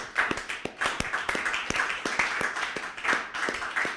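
A small audience claps for a DJ, a steady run of close, sharp handclaps with a quick, even rhythm.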